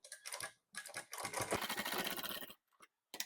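Sewing machine stitching folded palazzo fabric over elastic, a close, rapid mechanical chatter in several bursts separated by short pauses, the longest run lasting over a second, with no talking.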